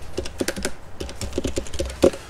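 Rapid computer keyboard typing of a short line command in AutoCAD, a quick burst of distinct close keystrokes with a firmer final key press like Enter, no voices.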